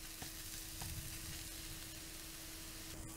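Garlic frying in a pan, a close, steady broadband sizzle that crackles evenly throughout with occasional small pops and no voices.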